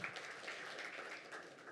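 Audience applause at an African Development Bank launch event in Senegal for a women and youth entrepreneurship programme, a steady wash of clapping from a hall crowd, fairly faint, with no voices over it.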